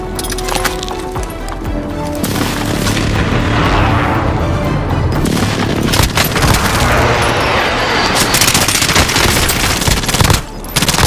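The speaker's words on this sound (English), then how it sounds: "Be advised, friendly precision airstrike inbound." A video game battle with a precision airstrike: dense, loud bursts of gunfire and heavy booming explosions roll on continuously, close and with no talking.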